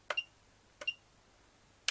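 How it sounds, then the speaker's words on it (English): A quadcopter radio transmitter beeps while its flight mode is changed: three short, faint, sharp electronic chirps spaced unevenly in a quiet room. "This is changing a flight mode, you can hear it beeping."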